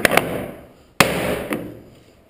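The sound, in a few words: hammer tapping apart armoire joinery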